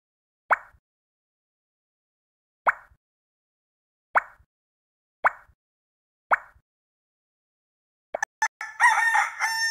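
In a preschool iPhone puzzle game, five short, separate plopping taps sound one after another. A brief clucking rooster call follows at the end.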